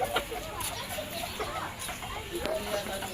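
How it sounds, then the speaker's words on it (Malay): Chickens cluck softly in short bursts nearby, with a faint voice in the background. "Ni ayam."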